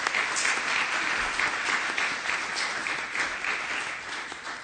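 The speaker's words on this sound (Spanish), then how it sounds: "Un fuerte aplauso, por favor." An audience at an electoral law conference applauds steadily, a dense wash of clapping that holds for several seconds with no voices on top.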